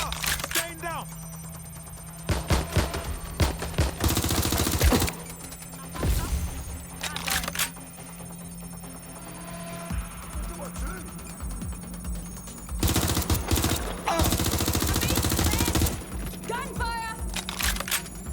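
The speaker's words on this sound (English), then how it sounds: "Gunfire!" Bursts of gunfire crackle in short volleys amid electronic game sounds and background noise, with moderate loudness throughout, in the video game Watch Dogs Legion.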